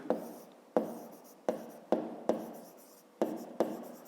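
A pen scratches across paper during a fifth-grade maths exercise, eight separate close strokes in uneven rhythm, each a quick sharp onset fading out, alone and quiet.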